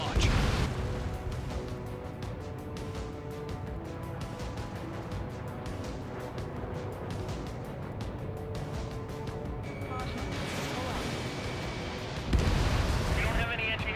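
Ace Combat 7 combat: a sustained roaring rumble of missile launches and blasts fills the air, thick and continuous, with a heavy burst swelling near the end and game voices talking underneath.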